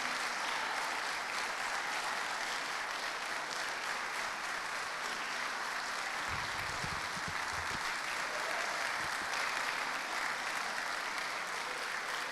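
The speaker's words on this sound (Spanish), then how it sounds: "Yo quiero que los recibamos con un caluroso aplauso a Patricia y a Esperanza" Congregation at a Saturday church service applauding warmly, a steady, dense wash of clapping that fills the room for the whole stretch without any speech over it.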